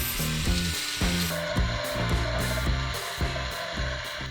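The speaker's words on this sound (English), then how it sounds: "And so the grinding began." Power grinding of old fiberglass, glue and spray foam inside a boat's anchor locker, a continuous harsh abrasive roar with rhythmic rubbing strokes pulsing about every half second, close and loud with no talk.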